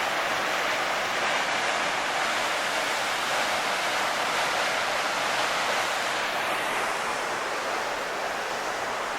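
Siouxon Falls on Siouxon Creek, a massive waterfall roaring in a steady, dense wash of broadband noise that holds loud and unbroken throughout, with no voices over it.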